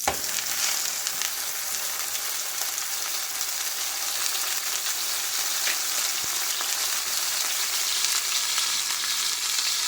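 A frozen south western steak omelet sizzles and crackles in a pan on a stove. The frying is loud and continuous at close range, with no voices.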